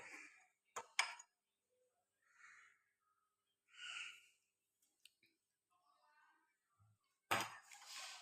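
Cutlery cuts gulab jamun into pieces on a plate: a few sharp, close metallic clicks and scrapes spaced apart in an otherwise quiet room, with a louder clatter near the end.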